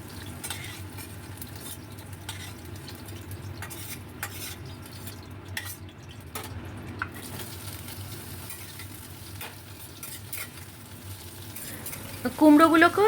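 Pumpkin pieces frying in oil, a low, steady sizzle with occasional light clinks of a spatula against the pan, close but fairly soft, with a brief louder scrape at the end.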